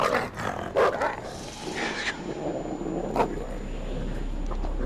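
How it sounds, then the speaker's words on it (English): Dog barking in the horror game Until Dawn, a few loud, sharp barks early on, then rougher growling noises and a low rumble over dark ambience. "can that dog please shut up?"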